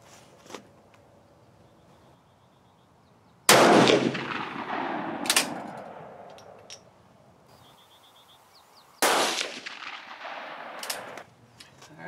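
Two loud, close gunshots from a Swiss Model 1940 K31 rifle at an outdoor range, each booming and echoing as it fades, spaced several seconds apart with quiet between them.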